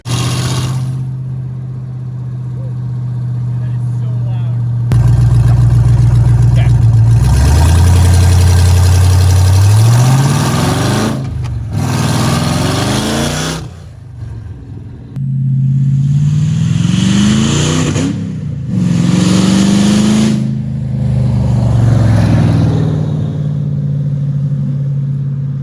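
A 1995 Jeep Wrangler built to 800 horsepower, hood off, idles loudly and then revs hard in repeated rising bursts, a deep rough engine roar close up with no talking.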